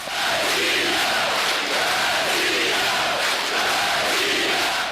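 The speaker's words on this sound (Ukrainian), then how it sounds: "натовп, що захопив приміщення УДА, зустрічає гучними оплесками та вигуками Росія" Crowd packed inside a seized administrative building roaring with applause and shouts, a broad, constant wall of cheering and clapping that holds at full strength throughout.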